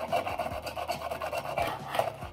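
Close, raspy rubbing and rolling of small hard urethane fingerboard wheels on wood, grippy, with repeated short scrapes and clicks.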